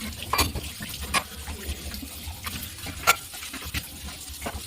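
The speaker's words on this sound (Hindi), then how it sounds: "तो मैं अपने बर्तन धुल रही हूँ।" Dishes being washed by hand at a home kitchen sink under running water, with a steady gush and splash and scattered clinks of utensils knocking together close by.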